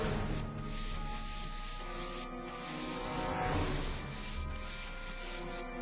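Steady cloth rubbing from shoe buffing inside the Back To The Future video game, a continuous soft brushing texture that swells and eases over a few seconds, with a faint game background tone and no talking.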